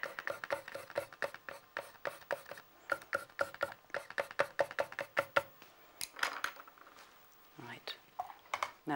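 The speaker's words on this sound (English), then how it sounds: "hold two pencils together and do twice as many grasses" Two pencils held together scratch quick grass strokes on paper for a watercolour and mixed-media landscape, a close, rapid run of short dry scratches in bursts, with a pause before a few final strokes.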